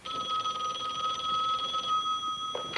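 A telephone rings steadily with a bright, continuous electronic trill that holds for over two seconds, then stops with a short knock near the end.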